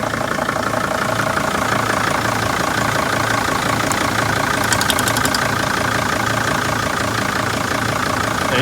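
A Mercedes Sprinter van engine idles after a cold start, having sat unused for days, giving a loud, steady, continuous rumble with an even mechanical chatter and no break throughout.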